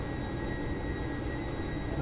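KSR Bengaluru–Channapatna passenger train passing close by, a steady broadband rumble and rattle of rolling wagons that holds even and loud through the whole short stretch, with no voices.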